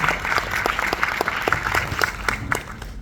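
An audience at a live Krishna-themed music show in Mumbai claps loudly to welcome a singer, dense sustained applause with crisp individual claps standing out close by.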